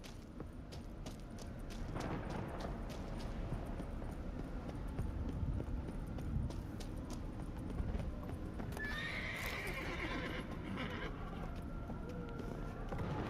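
Hooves of a donkey clop steadily in The Witcher 3 video game, a continuous rhythmic trotting clatter mixed with whinnying and game ambience, with speech-like voices faintly present.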